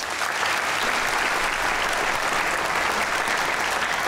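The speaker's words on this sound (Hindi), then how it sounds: "एक बार फिर तालियां होनी चाहिए" A studio audience on a Pakistani comedy talk show claps in a dense, continuous roar of many hands, loud and steady from start to finish with no voices over it.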